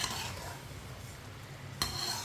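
A spoon stirs raw mango chutney with spices in a cooking pot, steady scraping and soft sizzling running continuously, with a sharper clink of metal near the end; no voices.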